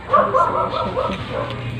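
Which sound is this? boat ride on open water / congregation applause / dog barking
dog barking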